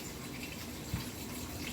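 Tap water runs steadily into a kitchen sink while a tomato is rinsed, a faint continuous hiss with one soft knock partway through.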